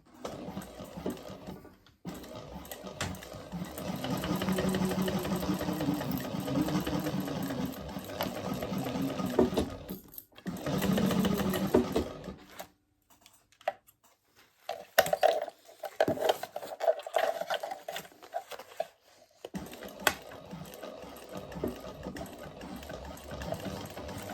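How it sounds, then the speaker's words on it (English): Sewing machine stitching lining onto fabric for a handmade bag, its motor whirring in long close runs of steady rapid stitching, broken by brief pauses and softer handling sounds between bursts. "So I'm just going to sew that on with the seam allowance in the pattern."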